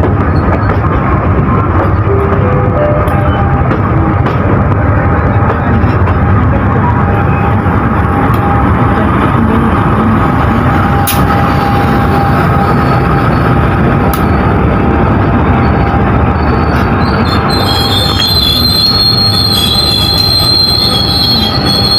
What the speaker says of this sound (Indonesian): Perjalanan kereta api komuter lain Doho saat ini persiapan masuk stasiun Blitar